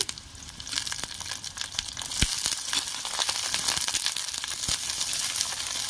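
Cut eggplant pieces dropped into hot oil in a pan, crackling and sizzling loudly up close, with sharp pops and spatters building into a steady fry.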